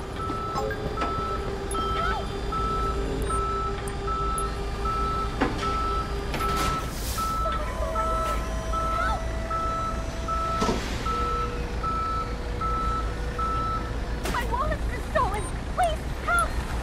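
Tow truck reversing beeps in the Police Simulator patrol game, a steady evenly spaced series of high electronic pips over a continuous road ambience, with a few brief other tones and a voice speaking.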